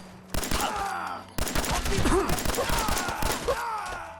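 Pistol gunfire in the video game Fallout 4, a rapid series of loud close shots with echoing tails and scattered impact thuds, with game sound effects mixed in.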